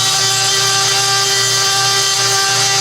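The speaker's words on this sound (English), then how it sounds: "So the closer you get with your belt sanding here, the less material there is to take off." A belt sander sanding a wood blank gives a steady, loud whine with a constant motor hum and gritty abrasive hiss, running continuously without a break.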